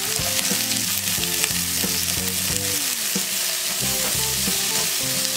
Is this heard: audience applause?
no